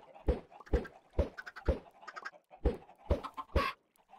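Minecraft chickens cluck in a series of about seven short, evenly spaced bursts, close and clear, with no talking over them.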